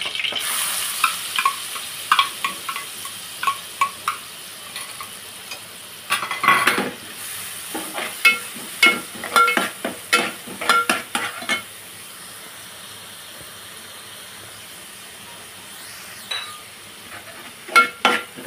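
Onion frying with curry leaves in a pan sizzles steadily while a spoon stirs it. Frequent metallic scrapes and clinks against the pan come in bursts, loud and close.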